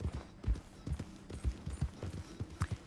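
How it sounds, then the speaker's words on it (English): A horse's hooves clip-clop at a steady walking rhythm in the video game Red Dead Redemption 2, close, regular thuds with no talking. "Have you heard yet what happens with the horse Bollocks in Red Dead Redemption 2"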